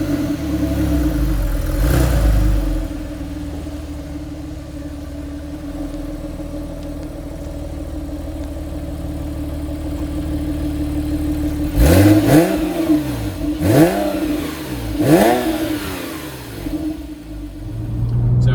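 A Porsche GTS car engine idles steadily as it warms up, then three sharp revs rise and fall in quick succession near the end, close and loud.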